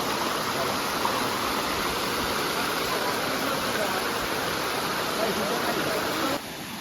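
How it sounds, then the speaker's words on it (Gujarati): A waterfall near the Mahakali temple at Saravana pours down from high above as a loud, steady rush of water. The roar stays even and close throughout, then drops slightly in level just before the end. "અહીંયાથી છેક ઉપરથી પાણી આવે છે."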